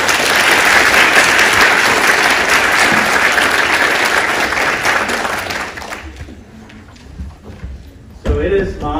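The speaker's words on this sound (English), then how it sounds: "Can we give another round of applause?" Audience applause at a nurse residency program graduation ceremony, a loud sustained round of clapping that fades out after about six seconds, followed by quieter room noise and a brief thump near the end.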